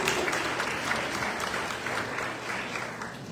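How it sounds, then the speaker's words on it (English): A crowd at an Oakland immigration rally claps in a sustained, dense round of applause, fairly even in loudness throughout. "Yes, big round of applause."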